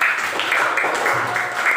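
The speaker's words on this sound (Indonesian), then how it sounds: "Betul, tepuk tangan, betul teman kita." A classroom of children claps in a brisk, rhythmic pattern of repeated bursts for a student who answered correctly, close and fairly loud over a short stretch.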